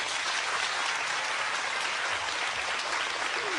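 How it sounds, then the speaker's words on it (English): Dense, loud audience applause filling the room, continuous and even throughout with no talking over it. "Big applause."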